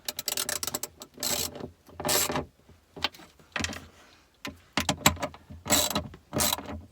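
A ratchet wrench tightens the fuel filter bolts on an R56 Mini Cooper S, giving bursts of rapid clicking ratchet strokes separated by short pauses, close up and loud, with no talk.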